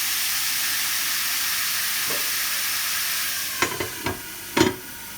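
Beef strips sautéing under a lid in a pan make a steady hiss, then a few close clanks and scrapes of stirring toward the end.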